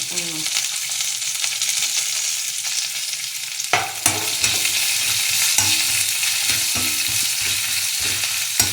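Small onions and white onions frying in an oil-filled pan while being made into pirandai chutney, a steady close sizzle with repeated scraping stirs and a few sharper spatula knocks against the pan.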